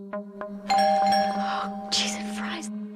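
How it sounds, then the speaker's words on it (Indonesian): A doorbell rings inside a house in the horror film Jennifer's Body: a sustained ringing chime enters after a couple of soft knocks and rings on over a steady low hum, with a brighter burst of noise near the end. "Tiba-tiba bel rumahnya berbunyi."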